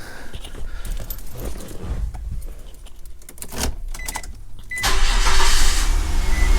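An offroad camper's engine is cranked and starts after its mass airflow sensor was cleaned with carb cleaner, then settles into a steady, louder run near the microphone, with a brief jingle of keys before it catches.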